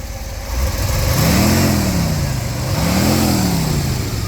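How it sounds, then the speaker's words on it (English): A 1959 Ford Thunderbird engine revs up twice, the pitch rising and falling in slow swells over a steady, close idle. "Can you give it a little rev?"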